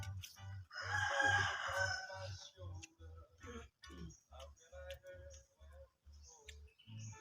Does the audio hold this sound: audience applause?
no